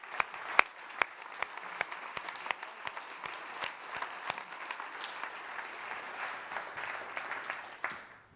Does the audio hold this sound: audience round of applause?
yes